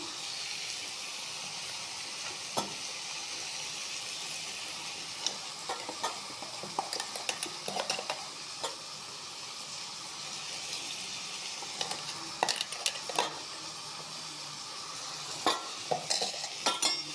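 Cabbage frying in a pan hisses and sizzles steadily while a spoon stirs it, with scattered clinks and scrapes against the pan throughout and no talking.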